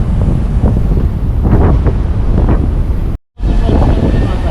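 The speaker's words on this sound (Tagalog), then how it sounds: "masyadong malakas ang hangin" Strong wind roars and buffets the microphone continuously aboard a ship at sea, broken by a brief dropout, with faint muffled voices beneath the gusts.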